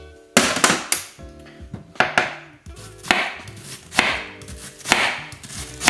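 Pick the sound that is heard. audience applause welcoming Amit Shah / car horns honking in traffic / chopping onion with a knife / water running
chopping onion with a knife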